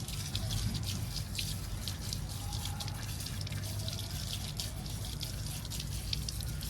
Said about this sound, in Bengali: একটু ধুয়ে নিলাম অপরটিও ধুয়ে নিচ্ছি